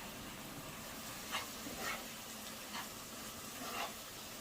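Mushrooms and onions sauté in a pan with a soft, continuous sizzle, while a few faint scrapes and bumps from stirring rise briefly above the hiss.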